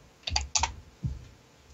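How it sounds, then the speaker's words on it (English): Computer keyboard typing in a short burst of a few key presses, close and clear, followed by a single softer thump in a quiet room with no voices. "Am I typing in the right place?"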